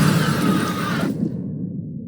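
Grenades exploding in the video game F.E.A.R. Extraction Point: a loud, broad explosive rumble and crash that cuts off sharply partway, leaving a low lingering roar fading out.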